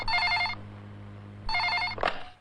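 A telephone bell rings in two short bursts with a pause between, followed by a brief clatter, all heard alone indoors.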